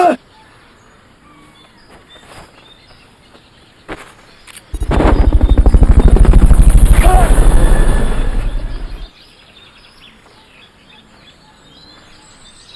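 Helicopter during a Fulton recovery in the video game Metal Gear Solid: Peace Walker, a loud, steady rotor drone that swells in for about four seconds and then cuts off, standing alone against a quiet background.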